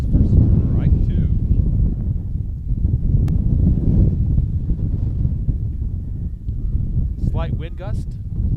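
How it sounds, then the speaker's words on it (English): Wind gust blowing across a baseball field during a high school game, a steady broadband rush that swells and eases over several seconds, with a distant faint voice briefly rising near the end. "Slight wind gust. A slight one."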